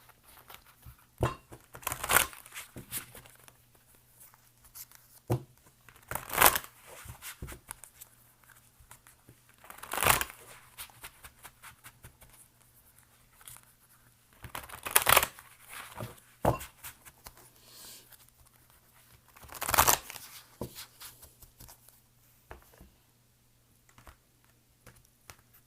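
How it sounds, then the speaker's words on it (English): Tarot cards shuffled by hand during a general love reading, several separate bursts of riffling and rustling a few seconds apart, close and fairly quiet, with soft handling noises between them and no talk. "let me go ahead and shuffle general"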